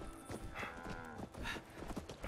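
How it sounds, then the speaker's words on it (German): Cattle in the Fallout 76 video game moo in long, drawn-out lowing calls that overlap, fairly near, with some faint hoof clatter underneath. "Oh Gott, Leute, ihr habt die Kühe da gelassen."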